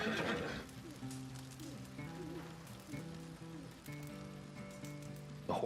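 A horse in Red Dead Redemption 2 whinnies loudly at the start, followed by a steady background of soft musical tones and ambient patter, then another brief whinny-like burst at the end.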